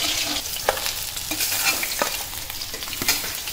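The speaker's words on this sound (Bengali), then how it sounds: "বেলে মাছটা ভাজাবো" Bele fish fry in hot oil in a home kitchen pan, a loud steady sizzle with occasional crackles and stirring taps, close up and with no talking.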